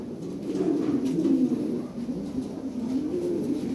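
Lahore Siraji pigeons coo in soft, low, throaty murmurs, a steady run of close calls with slight swells and pauses.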